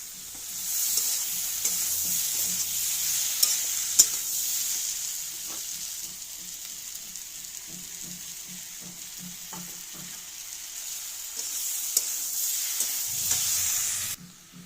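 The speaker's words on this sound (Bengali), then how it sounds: "এবার দেবো এই মশলাটা, আদা রসুন কাঁচা লঙ্কা বাটা আর জিরা।" Ginger, garlic and green chili paste with cumin fries in a pan for chilli soyabean, a bright continuous sizzle with stirring scrapes, close and steady before cutting off near the end.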